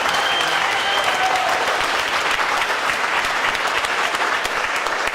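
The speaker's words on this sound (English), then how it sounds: "So another round of applause for Laura," Loud, dense audience applause for a guest speaker at a talk on ethical cannabis farming, continuous clapping from a crowd throughout, close and steady with no voices over it.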